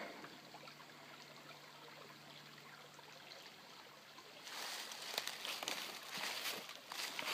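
Water in a creek on an off-grid farm burbles and trickles softly, growing louder and splashier in the second half, with faint outdoor ambience.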